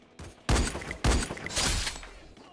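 Bursts of gunfire from the Free Fire battle royale game ring out in two dense volleys, loud and close, each sharp onset followed by a rattling tail that fades.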